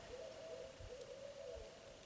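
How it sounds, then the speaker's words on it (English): Owls hooting outdoors at night, a low soft hoot repeating roughly every second over a steady faint background hum, fairly distant and calm. "I love it when the owls chime in out here."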